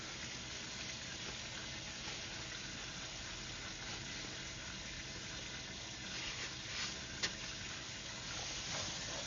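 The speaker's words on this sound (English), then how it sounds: "So we've started running water here." Water running through the drain tile of a house under construction: a faint, steady hiss and trickle of flowing water that continues throughout, with a single brief knock near the end and no voices.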